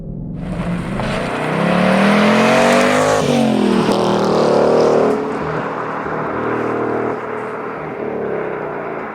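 Ford Mustang GT Performance Pack Level 2 with its Coyote V8, engine revving hard and loud, pitch climbing, dropping sharply on a gearshift, then pulling up again, with later throttle swells fading toward a steady cruise.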